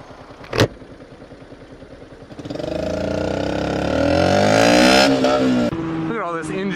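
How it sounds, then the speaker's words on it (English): A motorcycle engine roars up and down through a couple of downshifts while engine braking, its pitch rising and falling, loud and close. "Look at all this engine braking, man."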